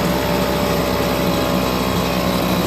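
A Homelite BP250 backpack leaf blower engine idles in a steady, unbroken drone, close and fairly loud, with no talking over it.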